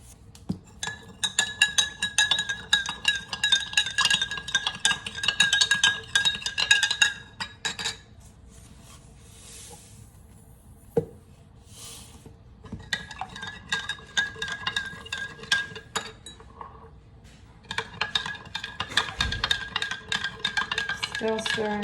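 A spoon stirs salt into water in a glass, giving a steady run of close clinking and scraping against the glass, with a quieter pause in the middle before the stirring resumes.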